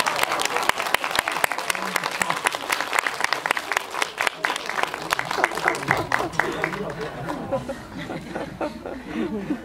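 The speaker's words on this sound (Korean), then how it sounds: "박수로 맞이해 주시겠어요?" An audience at a Korean film screening Q&A claps loudly with sharp, dense hand-claps that taper off toward the end, mixed with chuckles and murmuring chatter.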